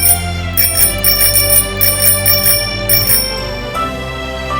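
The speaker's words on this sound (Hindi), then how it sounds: "अभी भी घंटी बज रही है।" A bell on a scooter rings loudly and close by in rapid, repeated trills, with a short pause before a final ring, and no voices.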